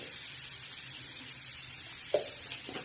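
Onion frying with red chili powder in a pan for a spicy Maharashtrian potato and prawn dish; a soft, steady sizzle hisses throughout, with a faint clink near the end.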